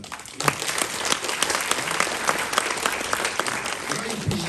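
Audience applause at a senior university ceremony in Knurów, following a poetry-and-music performance; dense, steady clapping from a crowd fills the hall, with some voices murmuring underneath.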